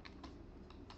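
Several quick keystrokes on a computer keyboard, four separate taps spaced irregularly over about a second, close and fairly quiet.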